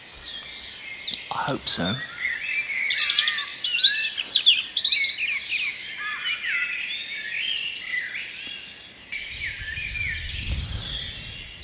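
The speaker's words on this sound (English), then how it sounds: "liquidy robin call coming from in the bush or in the tree nearby" A robin's liquid, warbling song trickles from a nearby bush or tree amid a dawn chorus of chirping birds, with a voice speaking briefly and a low rumble near the end.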